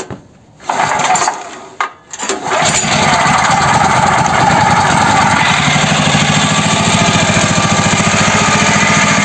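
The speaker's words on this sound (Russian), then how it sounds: "Давайте сейчас заведем, попробуем. Правда, холодно." A mini tractor engine in cold weather is cranked a few times with short bursts, then catches and runs continuously at a loud, steady, rough idle.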